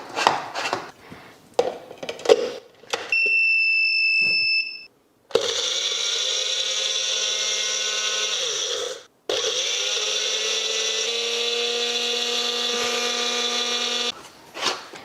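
A bullet mixer grinds chillies and coriander in two loud, sustained runs of high, whining motor noise, preceded by a few short clicks and a brief tonal beep.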